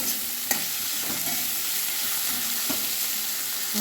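Vegetables for a winter rohu fish curry fry steadily in a pan, a continuous close sizzle broken by a few sharp stirring knocks, with no voices.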